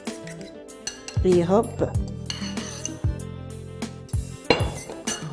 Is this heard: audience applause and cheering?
no